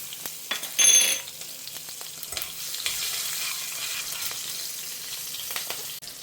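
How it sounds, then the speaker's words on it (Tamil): Mustard seeds spluttering and popping in hot oil in a home kitchen pan, a steady close sizzle with scattered sharp crackles and a brief louder burst near the start, no speech. "கடுகு பொரிய ஆரம்பிக்கிறது."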